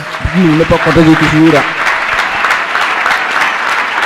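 A church congregation claps loudly together in a dense, sustained burst of applause, with a voice singing or calling out briefly at the start over the clapping.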